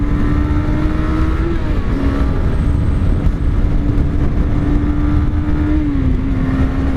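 A 2017 Suzuki GSX-R 250 motorcycle engine pulls hard through the gears from a standing start, a loud close steady drone rising in pitch, dipping briefly at each shift before climbing again.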